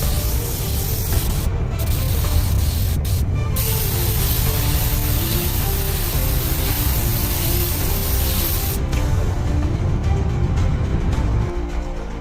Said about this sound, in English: Now spraying the door.